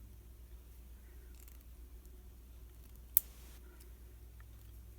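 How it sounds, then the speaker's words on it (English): A single crisp snip as scissors cut the wire tail off a handmade journal tassel, a short sharp click in the middle of an otherwise quiet stretch with a low steady background hum. "I'm going to cut off this tail right here"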